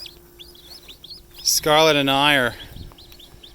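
Young chickens on a farm give small, high chirps in the background, repeating through the scene while a person talks over them up close.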